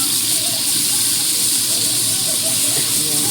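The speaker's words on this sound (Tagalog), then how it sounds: "Lagay natin ang chicken, ground chicken. Ayan, 2 pounds of ground chicken." Two pounds of ground chicken sizzling in a hot pan, a loud, steady hiss with crackling, and a voice talking underneath.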